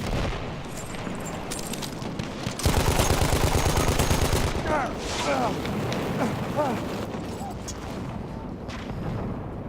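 Mortar blasts and gunfire in the World War I shooter Battlefield 1, set during the Brusilov offensive: a sudden loud boom at about two and a half seconds, then a continuous rumbling battle din with crackling shots, and a voice talking over it.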